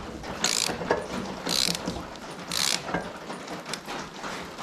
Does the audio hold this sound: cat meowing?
no